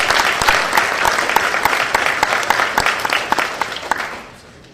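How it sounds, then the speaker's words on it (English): An audience at a school board meeting breaks into a full round of applause, dense and steady clapping that gradually fades out at the end. "let's give them all a big round of applause."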